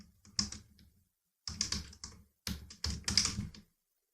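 Keys clatter in quick, close bursts on a computer keyboard, three short runs of typing separated by brief silent pauses.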